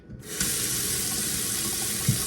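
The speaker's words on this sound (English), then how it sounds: "I trust this faucet water." Tap water pours steadily from a faucet into a kitchen sink while boxed brownie mix is being prepared, a constant close hiss with one brief clunk near the end and no speech.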